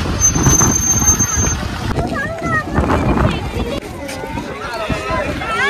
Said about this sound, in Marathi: गाड्या भरपूर लागल्यात